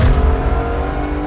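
A widebody BMW M140i track car on the Nürburgring gives a loud, steady engine drone from inside the cabin, its low rumble holding constant through the whole brief moment.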